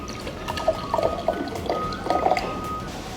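Water pours into a bottle in short, uneven glugs and trickles, with faint clinks between them, and no one speaking.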